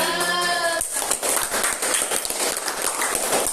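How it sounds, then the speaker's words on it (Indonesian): Students in an Indonesian classroom clap together after a biology lesson on protists, a dense burst of applause starting abruptly and continuing steadily at moderate loudness until the end. "Oke, tepuk tangan."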